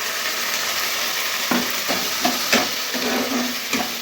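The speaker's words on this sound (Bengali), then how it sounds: "পেঁয়াজটা একটু ভেজে নিয়েছি, এবার আদা জিরে বাটা দিয়ে দিলাম।" A ginger and cumin paste sizzles loudly and steadily in a hot pan with fried onions, with occasional scrapes and clicks of stirring cutting through the hiss.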